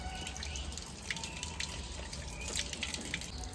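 Tap water runs and drips into a sink as a pet drinks from it, a close, steady trickle with irregular splashy drips over a continuous background wash, and no talk.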